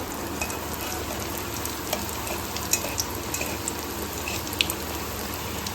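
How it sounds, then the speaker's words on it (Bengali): Chicken sandwiches frying in oil, a steady close sizzle with dense crackling and a few sharper pops, alone without talk. "আমি এপিট ওপিট করে কিন্তু পুরো ভেজে নেব এই জিনিসটা চিকেন স্যান্ডউইচ"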